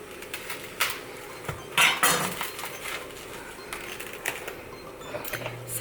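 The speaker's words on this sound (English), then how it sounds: "And just shake the pans as they begin to toast a little bit" Seeds dry roasting in a dry pan on a stovetop at medium-high heat, the pan shaken in bursts of rattling, clinking clatter with sharp metallic hits, fairly close and with no talking.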